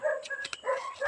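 Dogs bark in a short, lively burst, a few sharp yips and barks close by, with no talking.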